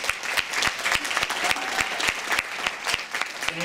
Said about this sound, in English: I'd like to give them a round of applause for being with us today.